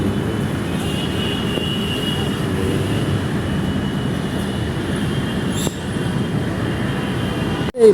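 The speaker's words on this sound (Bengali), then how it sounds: "এই যে মেট্রো চলে গেল।" A metro train passes at close range, a steady broad rumble of wheels on rail holding loud throughout, with a faint high squeal near the end and a sharp knock at the very close.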